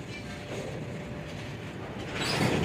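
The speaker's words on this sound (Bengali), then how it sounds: "মুখটা কি দেখতে পাচ্ছ, ট্রেনের মুখটা কোথায় মিলিয়ে গেছে" A train rumbling as it moves away on a suburban line, a steady broad low roar at moderate distance that swells slightly louder near the end, with no talk.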